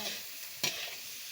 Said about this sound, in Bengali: সবজি অর্ধেক ভাজা হয়ে যাওয়ার পরে পেঁয়াজ রসুনটা দেওয়া হয়েছে, দিয়ে ওটা ভালো করে একটু ভেজে নেওয়া হবে।